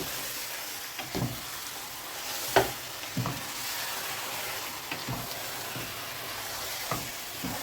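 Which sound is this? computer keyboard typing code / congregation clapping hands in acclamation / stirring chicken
stirring chicken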